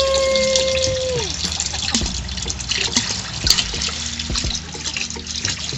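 Water pumped up from a well with a high water table, a steady close gush and trickle of flowing liquid running throughout, with a faint tone that slides down near the start.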